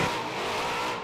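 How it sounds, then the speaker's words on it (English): Drag racing car at the top end of the racetrack, a loud, continuous engine roar with a slight swell and fade, no voices over it. "There goes Ryan Weger, top end of the racetrack, and there you go."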